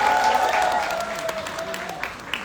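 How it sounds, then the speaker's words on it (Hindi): An audience at a film press conference applauds in a dense, steady burst of clapping that fades slightly toward the end, with voices faintly mixed in. "इसलिए आपके लिए एक बार जोरदार ताली।"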